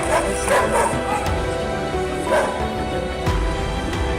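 Dogs bark and yip repeatedly over a loud, busy background, with some whimpering mixed in; the barks come in scattered bursts.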